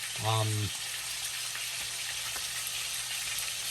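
Thick steak frying in a hot pan, a steady broadband sizzle running throughout after a brief low tonal hum at the start, close and even in level.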